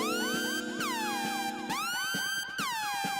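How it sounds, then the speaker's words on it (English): A loud, swooping siren wails in repeated rising and falling sweeps, each cycle sliding up sharply and easing back down across about three seconds, heard alone with no talk. "Cue the Kill Bill siren."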